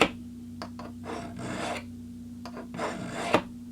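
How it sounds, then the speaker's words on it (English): A knife blade is drawn through the coarse slot of a sharpener, giving several close, gritty rasping passes of about half a second each, separated by brief pauses, with a low steady hum underneath. "I'm gonna pass this baby through the coarse portion and see if it'll help profile this blade"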